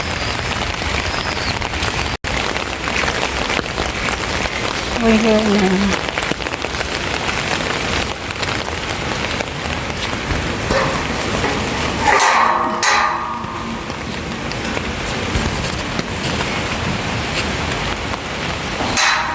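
Steady rain pours down and patters on a surface throughout, with a brief spoken phrase and a few knocks partway through.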